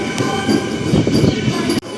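A MEMU commuter train rumbles into Bhimavaram Junction platform, its heavy carriages rolling loudly and close with a clattering texture and a brief sharp drop near the end.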